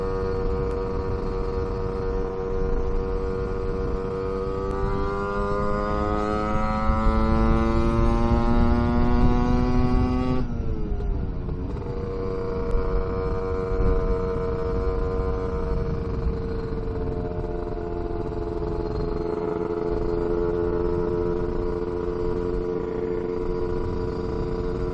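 A Casa Performance SST265 kit on a Vespa scooter engine runs loud and steady while riding, its harmonic drone rising in pitch under acceleration, then dropping sharply at a gear change around the middle before holding steady again, with wind noise throughout.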